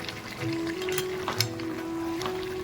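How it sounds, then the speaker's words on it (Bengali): Vegetables for a veg biryani sizzle in a hot pan while being stirred, a soft steady frying hiss broken by a few scraping knocks of the spoon, with a faint background hum. "এইভাবে নাড়াচাড়া করে সবজিগুলোকে ভালো করে কষিয়ে নিতে হবে"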